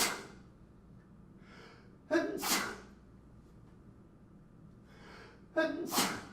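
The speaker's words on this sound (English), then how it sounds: "I had to sneeze" Two sharp sneezes, each a sudden explosive burst with a quick intake before it, several seconds apart against a quiet room.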